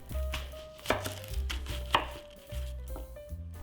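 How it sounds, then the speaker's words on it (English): Half an onion is chopped into small pieces for a yakitori barbecue sauce. A knife strikes the cutting board in a steady series of close, crisp chops, with no talking. "We'll use half an onion chopped into small pieces"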